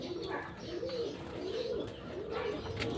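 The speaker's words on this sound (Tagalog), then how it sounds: "Kalapati ayaw pumasok" Pigeons in training coo softly and repeatedly in low, rolling bursts, close by and fairly faint.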